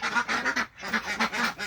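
Chinese duck ducklings quack in a rapid, continuous chorus of raspy calls, close and fairly loud, with a brief pause midway.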